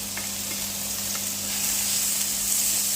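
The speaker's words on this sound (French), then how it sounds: "je viens y mettre tous mes petits légumes" Small chopped vegetables fry in olive oil in a pan with a steady, soft sizzle, heard alone without any talk.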